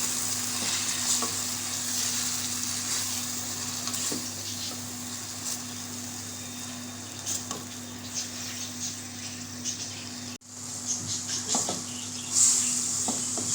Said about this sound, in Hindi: कीमा डाल के मैं मिक्स कर लूँगी।